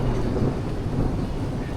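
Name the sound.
thunder during a storm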